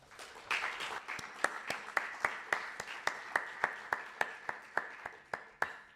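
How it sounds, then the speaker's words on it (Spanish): Lecture audience applauding for a speaker at a conference series, steady scattered clapping with a few sharp distinct claps standing out, moderately distant and alone. "dándole un fuerte aplauso a Antonio"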